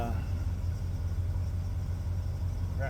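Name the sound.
car engine idling roughly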